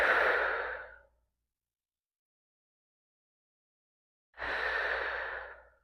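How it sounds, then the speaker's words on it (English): Two long, airy breaths out, close to the microphone, each about a second, with a quiet gap of several seconds between them and no talk. "Big inhale."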